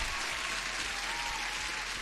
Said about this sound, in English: You deserve a double applause.